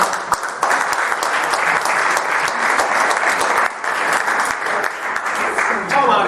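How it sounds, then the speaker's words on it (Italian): A studio audience bursts into loud, sustained applause to welcome a falconer guest, dense clapping running steadily throughout with a presenter's voice over it. "fare un bel applauso subito a Marco Massignani che si avvicina a me"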